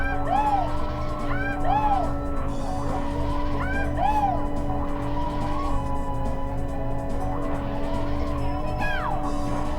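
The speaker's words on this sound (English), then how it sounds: "Trying to get those mini turbos in as quickly as possible here" Karts in Mario Kart 64 drift and fire off mini turbos, with repeated rising chirping boosts over a steady engine drone and commentary throughout.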